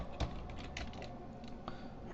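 Computer keyboard keys tapped while typing at a Linux terminal, a few soft, close clicks with one sharper press near the start, quiet and without talk.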